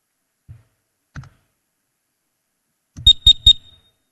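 Quiz buzzer at a university capital-market challenge awards ceremony: two faint soft knocks, then three sharp, loud, rapid electronic beeps in quick succession.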